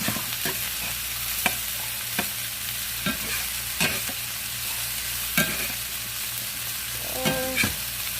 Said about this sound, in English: Time to turn the potatoes over here.